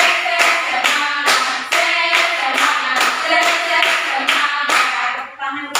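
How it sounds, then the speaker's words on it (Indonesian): A group claps hands in a steady, rapid rhythm for several seconds, loud and close, with a brief pause near the end. "Tepuk tangan dulu."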